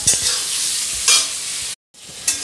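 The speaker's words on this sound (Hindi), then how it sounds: "अब इस बचे हुए तेल में मैंने अपने टमाटर, लहसुन और हरी मिर्च डाल दिए" Tomatoes, garlic and green chillies fry in leftover oil with a loud, steady close-up sizzle and stirring scrapes, briefly cutting to silence before the frying resumes.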